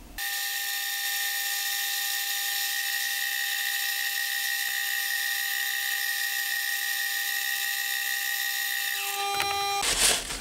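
A drill on a milling machine with an indexing head bores a 7.5 mm hole into a metal quill handle hub, making a steady, loud, high-pitched whine that holds for about nine seconds and then winds down, with no talk.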